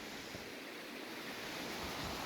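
A small creek rushes past boulders along the Appalachian Trail in the White Mountains, a faint, steady wash of flowing water with no voices.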